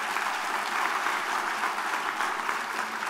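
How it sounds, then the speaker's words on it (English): An audience at a youth award presentation applauds steadily, a dense, even wash of many hands clapping throughout with no pause. "Please give him another round of applause"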